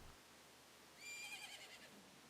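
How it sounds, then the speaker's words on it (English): Epona the horse whinnies in the game Majora's Mask, a single faint, high, quavering neigh about a second long that rises partway through over quiet background ambience. "Epona ruining the scene, won't stop neighing in the background."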